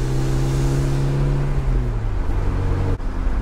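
A Porsche 944 Turbo engine breathes through a straight-through Borla muffler exhaust, a loud, steady drone that eases off partway and dips briefly near the end, heard alone with no talk.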